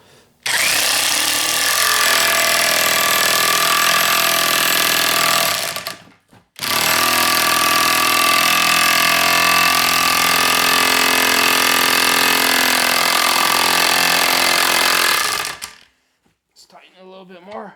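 Power tool hammering relentlessly on a socket until it breaks, a loud, continuous jackhammer-like rattle in two long bursts separated by a brief pause, ending abruptly.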